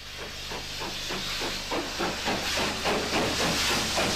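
A steam locomotive at a station releases a continuous loud hiss of steam. A regular chuffing pulse repeats under it several times a second, fairly close.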